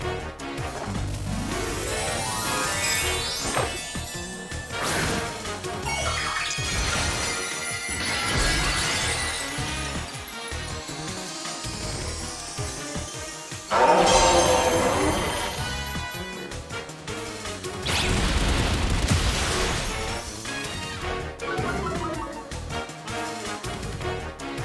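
Pokémon Scarlet attack effects crash and shatter repeatedly, bursts of explosive smashing and glassy breaking layered over a busy, dense soundtrack.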